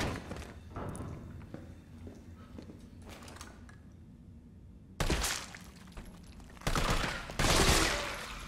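Loud bursts of gunfire from the Resident Evil 3 Remake video game, a scattered volley at first, then several heavy, close shots near the end. There is no speech over them.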